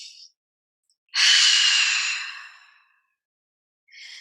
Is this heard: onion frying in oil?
no